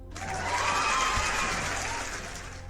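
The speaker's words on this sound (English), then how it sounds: "I have an applause for you" A recorded applause sound effect played during a live stream, a swelling burst of crowd clapping with light cheering that rises quickly, holds for about two seconds and then fades.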